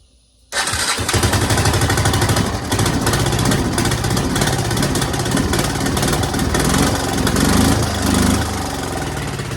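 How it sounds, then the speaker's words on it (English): A mud bike engine with a fault fires up abruptly after a brief silence, then runs loud and rough close by, swelling with revs and staying high rather than settling quickly back to idle. "it'll rev real high, but it'll take like maybe 5 seconds for it to come back down to normal idle speed"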